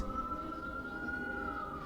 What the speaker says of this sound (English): just keeping the siren on for whatever reason?